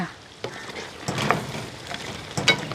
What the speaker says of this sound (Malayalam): ഒന്ന് ആദ്യം ഇളക്കി എടുക്കണം